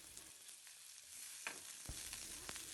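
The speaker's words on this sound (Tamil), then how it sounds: "அதுக்கு ஒரு டேபிள் ஸ்பூன் அளவுக்கு எண்ணெய் விட்டுட்டு அதில் ஒரு பெரிய வெங்காயம் பொடியாக நறுக்கி" Finely chopped large onion sautéing in a tablespoon of oil in a pan for masala puri, a quiet steady sizzle broken by a few soft stirring scrapes.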